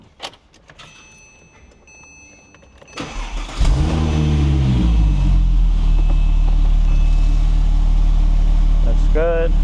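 A Porsche 997 911 Turbo fitted with a Shiftpower throttle response unit cranks and fires after a few quiet seconds. It settles into a loud, steady, deep idle rumble that holds close and constant until the end.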